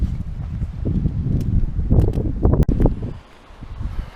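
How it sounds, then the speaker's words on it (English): Strong, gusty wind at a campsite on a Saturday morning, rumbling and buffeting against the microphone with rustling and a few sharp knocks, loud and continuous for several seconds with no voices. "Saturday morning, and yeah, we definitely got the wind."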